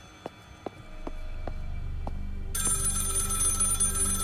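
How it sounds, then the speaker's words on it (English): A telephone rings in the horror video game Maid of Sker, a series of five sharp bell-like rings spaced about half a second apart, followed by a louder, denser ringing burst over a steady low hum. "Let's pick up this phone."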